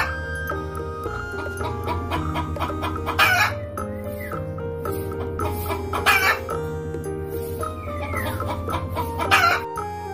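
Hens cluck repeatedly over a background of steady music tones, with several louder clucking bursts recurring every few seconds.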